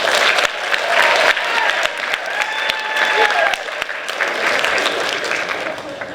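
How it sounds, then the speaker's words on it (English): A crowd claps steadily and loudly throughout, a dense wash of applause with no pauses. "Let's give her a round of applause."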